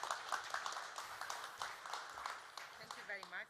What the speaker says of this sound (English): So let's give a round of applause to Cerasela.